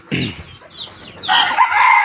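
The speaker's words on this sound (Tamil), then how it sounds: "இது பார்த்திங்கன்னா தாடி ரகம் சேவலுங்க இது" A bearded-breed rooster and hens: a short cluck, then a loud rooster crow rising over the last part, close by and without talk.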